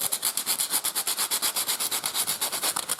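A crumpled aluminium foil ball is sanded by hand in steady, rapid back-and-forth strokes, giving a dry, close rasping scrape that repeats evenly about six times a second with no talking.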